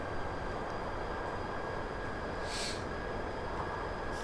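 A Class 59 freight locomotive in Train Simulator 2018 on the Medway Valley Line gives a steady, continuous rumble and drone, with a brief hiss rising partway through.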